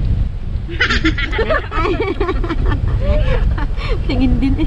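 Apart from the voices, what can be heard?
strong wind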